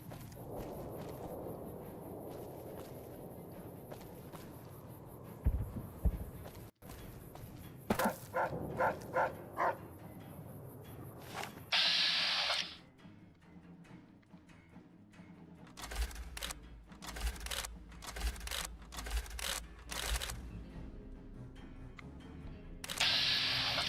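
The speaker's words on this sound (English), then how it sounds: "Where's the dog that I heard?" A dog barks in the video game Fallout New Vegas, a few brief yips among clicks, thumps and bursts of game noise, fairly faint in a busy mix.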